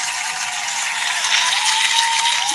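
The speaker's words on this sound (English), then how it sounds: "I was playing applause for Ben." Recorded applause played back through a phone speaker, a steady bright wash of clapping and crowd noise that swells slightly near the end, with no talking over it.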